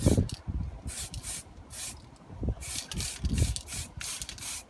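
A spray can hisses out grey primer onto MDF tabletop terrain in repeated short bursts, close and steady, with faint rubbing and handling noises between sprays.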